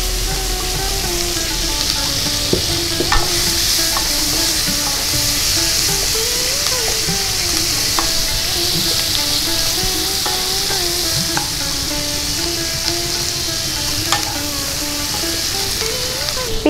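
Chopped onion frying in oil with bay leaves for chicken keema chana dal, a steady close sizzle with occasional stirring clicks running throughout, no talking.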